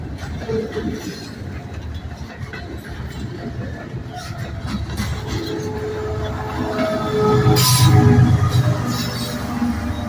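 Freight train climbing a grade with a DPU locomotive shoving at the rear, a steady rumble and clatter of cars that grows louder toward the end, with a high squeal near the close.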